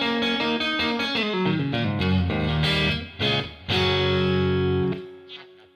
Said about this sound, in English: I've got the spring reverb on,